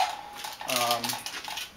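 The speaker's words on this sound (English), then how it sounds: "Got your pot for boiling water." Metal camping cookware, an old scout eating pan and a pot for boiling water, clinks and scrapes as it is handled up close, with a brief cluster of ringing metallic knocks in the middle and lighter rattles around it.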